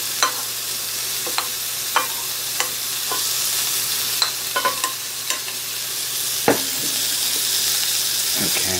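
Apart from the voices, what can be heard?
onions frying in a pan for Salisbury steak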